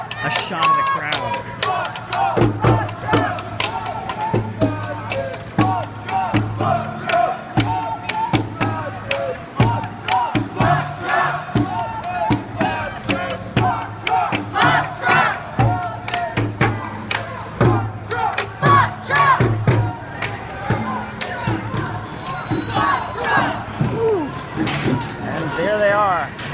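A crowd of anti-Trump protesters at a night protest in Oakland makes rhythmic chanting and clapping, with shouting and cheering in loud pulsing bursts from close by. Some people speak too.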